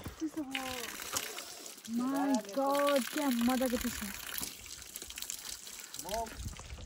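Cold stream water being collected in the hills of Nawalpur, a steady rushing wash running under close, excited voices that talk over most of it.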